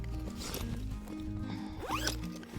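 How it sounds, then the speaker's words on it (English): A zipper running along the fabric carry bag cover of a high-back camping chair, a short close rasping pull with a quick rising zip near the end. "This cover has a zipper and a longer strap."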